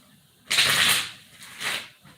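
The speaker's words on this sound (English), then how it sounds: "So I'm gonna shuffle 5 times." A tarot card deck is shuffled in two quick riffling bursts, the first longer and louder, the second shorter, close and clear with no talking over them.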